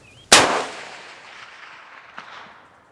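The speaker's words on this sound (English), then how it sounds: "You can hear that crack when it goes supersonic." The supersonic crack of a 170 grain rifle bullet fired at steel targets about 400 yards away: a single sharp loud crack with a decaying rumble outdoors, then a faint distant echo.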